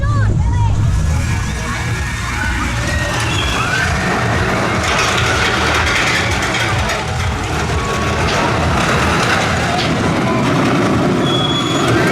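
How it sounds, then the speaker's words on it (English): Loud rumbling and rattling of a roller coaster rolling along metal track at Southport Pleasureland, wheels squealing at times, with people chattering and calling out throughout. "Little ride on the roller coaster."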